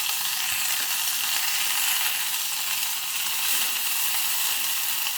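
Ginger, chili and garlic paste sautéing in hot oil for spinach dry bhakri, a steady broad sizzle that holds evenly throughout with no talk.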